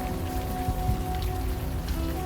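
Rain in the adventure game Unavowed, a steady close patter of drops with a low tonal hum running beneath it and no voices.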